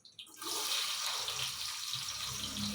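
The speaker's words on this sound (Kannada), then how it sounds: "ಈಗ ಎಣ್ಣೆ ಕಾದಿದೆ ಹಾಕ್ತೀವಿ ಈರುಳ್ಳಿ" Onions drop into hot oil for vegetable pulao with a sudden loud hiss that swells into a sustained, bright sizzle lasting the rest of the moment.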